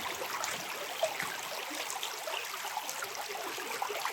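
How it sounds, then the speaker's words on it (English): A brook flows through old growth forest, giving a steady, soft rushing babble with faint trickles, even and unbroken throughout with no voices. "this brook meanders through the property"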